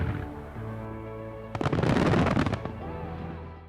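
A fireworks display over a steady tonal musical background: a dense burst of crackling pops and bangs erupts for about a second, then fades back to the music.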